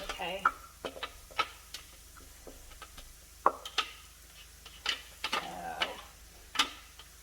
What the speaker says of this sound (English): now I'm going to add these greens to my hot skillet